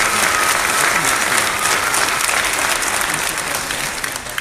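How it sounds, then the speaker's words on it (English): Steady applause from a graduation audience at a Kaplan University ceremony, a dense wash of clapping that holds for the whole span before easing slightly at the end. "please give them a round of applause at this time"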